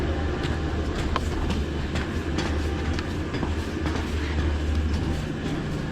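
An aerial tram climbing Allen Peak, a lift used in the 2002 Olympics, gives a steady loud mechanical rumble with scattered rhythmic clicks and knocks throughout, with no voices.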